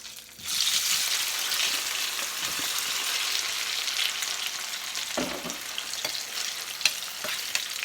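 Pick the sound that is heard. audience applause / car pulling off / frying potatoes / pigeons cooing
frying potatoes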